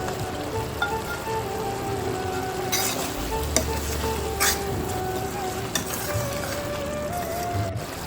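Boiled eggs, browned in oil beforehand, are stirred into a simmering drumstick egg curry, giving a steady close sizzle and bubble with scraping stirs and occasional light clinks of a pan throughout.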